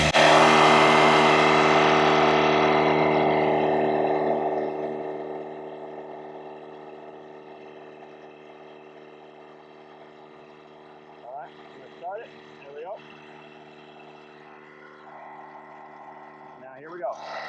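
A LASFIT TK1 portable tire inflator runs with a steady tonal motor drone, loud at first and then settling to a quieter hum, with a few brief bumps and scrapes near the end.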